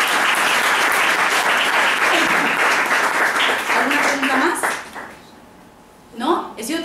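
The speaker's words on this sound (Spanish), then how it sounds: "¿Merecen un aplauso o no?" Applause from a group at a vegan vlogger's gathering on alternatives to animal testing, dense and steady clapping for about five seconds before it tapers off, with brief talk and a short burst of laughter afterward.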